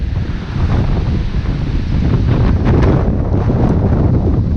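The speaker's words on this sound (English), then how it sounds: "this wind is really picking up" Loud, steady wind roars and buffets against the microphone during the Alisal Fire, with a constant broadband rush that never lets up.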